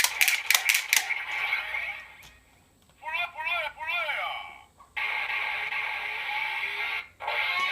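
A Kamen Rider Drive DX Drive Driver toy belt with Shift Brace plays electronic standby effects through its small speaker: rapid clicking bursts, warbling chirps and a sustained buzzy tone, loud and close.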